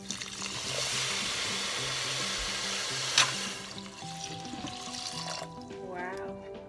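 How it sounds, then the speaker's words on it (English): Two cups of water poured into a pot in a home kitchen, a steady splashing rush with a brief louder burst midway, fading as the pour ends under background music. "Now we put in 2 cups of water."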